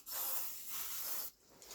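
Aerosol cleaner sprayed onto a car's EGR valve, a steady close hiss lasting about a second with a brief pause and a short second burst at the end.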